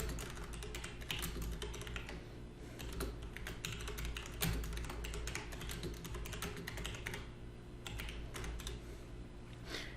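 Rapid clicking of computer keyboard keys as keywords are typed into a photo geotagging form, a steady close run of light taps with brief pauses and no talking.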